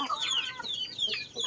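Native Joloano chickens cluck in quick, close, repeated bursts while pecking at papaya, a busy overlapping chatter of short calls with no talk.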